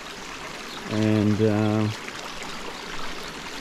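Rainwater runs steadily along a flooded hiking track on the Dusky Track after a night of heavy rain, a constant close rushing wash, with someone briefly speaking over it.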